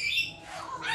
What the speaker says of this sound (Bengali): এটা মিলিটারি ম্যাকাও বলে। দারুণ পাখি